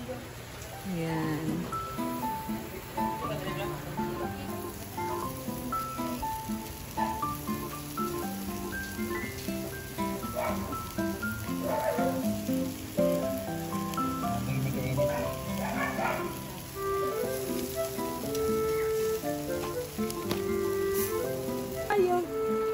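Steady June rainy-season rain hisses and patters on surfaces outdoors through the whole stretch, with people talking and clattering over it.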